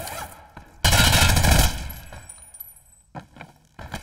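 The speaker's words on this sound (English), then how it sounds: "Yeah, that guy's pistol is crazy." Pistol fire in the video game Hired Ops: a loud burst of rapid gunshots blasts for about a second and a half, followed by quieter scattered shots and clicks.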